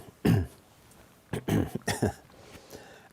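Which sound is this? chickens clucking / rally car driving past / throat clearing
throat clearing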